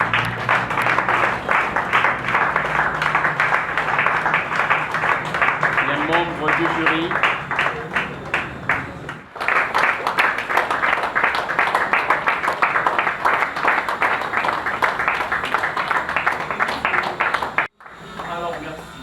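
Audience applause at a graduation and degree-conferral ceremony as the jury members are received, loud, dense clapping filling a hall, continuing for a long stretch with a brief break, while a voice speaks over it.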